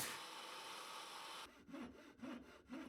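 Hand saw ripping through wood for a camp kitchen stretcher: a stretch of steady, dense rasping gives way to a few slow, distinct back-and-forth strokes, close and clear with no talking.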